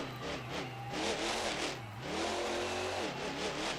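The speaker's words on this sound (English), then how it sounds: "I love seeing these older trucks on the track, man." Older monster truck engines roar during a freestyle run at a stadium competition in Anaheim, California, the revs swelling and dropping repeatedly in a loud, continuous, slightly distant wash of noise.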